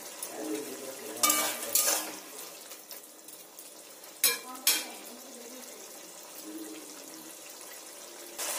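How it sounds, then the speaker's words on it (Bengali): Curry gravy bubbles in a pan as it boils, a soft steady burbling hiss broken by a few sharp nearby clatters early on and again midway. "ঝোলটাকে ফুটতে দেব"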